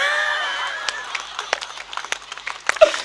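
An audience at a comedy poetry show claps in scattered, irregular bursts that fade and pick up again, with a voice heard faintly at the start.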